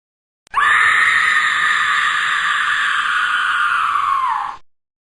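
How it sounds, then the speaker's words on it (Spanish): A girl's terrifying scream, loud and close, one sustained shriek lasting about four seconds with a sudden start and a tapering end, heard alone. "ella dio un grito bastante aterrador que me marcó demasiado"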